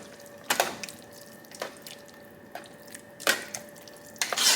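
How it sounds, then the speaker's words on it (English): One pound of ground beef stirred in a pan, a few distinct wet scraping and squelching strokes spaced about a second apart, close and clear with no talking. "Let's stir it up and let's see, because I only use 1 pound of ground beef. So I'm just stirring it up"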